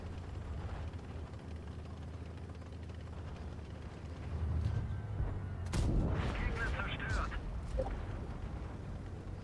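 A Skorpion G gun in a video game fires heavy, booming shots that burst out mid-clip over a low vehicle-like rumble, with a few sharp reports and some mechanical rattling trailing after.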